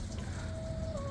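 Chickens raised on a farm clucking in a steady low murmur, with a thin high tone drawn out across the middle, no voices.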